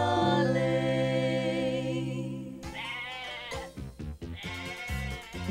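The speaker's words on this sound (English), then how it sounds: "The sheep were running all over the place." Sheep bleat in a Mother Goose nursery song: sustained, wavering tonal calls that overlap and layer, followed by shorter choppy bleats, loud and close with no talking.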